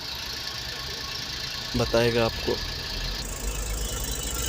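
A noisy Toyota FJ Cruiser with a 1GR-FE 4.0L V6 engine runs with a steady, loud mechanical drone and a whine on top. Someone speaks briefly over it.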